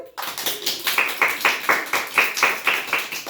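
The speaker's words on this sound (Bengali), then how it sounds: "জুড়ে জুড়ে জুড়ে হাততালি দাও সবাই" A group of people at a Valentine's Day gathering clap their hands together in a steady, even rhythm of about ten claps. The claps are close and moderately loud, with no talk over them.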